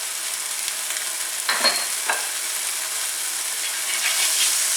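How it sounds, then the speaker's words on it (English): Butter melting with olive oil in a pan, a steady close sizzle and crackle with a couple of brief scraping stirs, no voices. "We'll let the butter melt."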